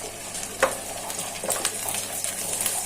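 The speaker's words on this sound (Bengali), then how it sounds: "সাথে দিয়ে দিচ্ছি খেজুরগুলো," Pistachios, cashews and dates fry in ghee in a pan with a steady soft sizzle and a few sharp scrapes of stirring, close and moderately loud without talk.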